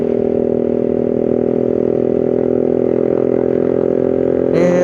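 A motorcycle engine drones loudly and steadily while touring on a long ride near Bogor, Indonesia, with a constant close mechanical hum and a brief rise at the very end.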